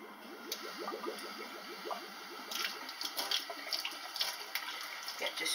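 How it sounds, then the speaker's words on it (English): Warm water runs steadily from a tap into a jug, a continuous splashing stream with a few brief clinks, close by and without any voices. "you get a jug and you fill it up with warm water"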